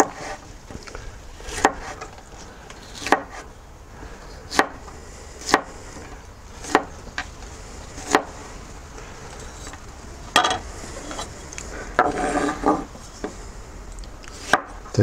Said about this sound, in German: in dünne 4 bis 5 mm dicke Scheiben schneiden.